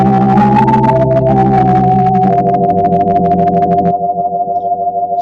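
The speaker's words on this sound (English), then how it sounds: "The organ, as its default setting, sounds like this." A Lowrey organ on its default setting plays sustained chords, loud and close, with held tones shifting between notes and a buzzy, slightly distorted timbre, alone without voices.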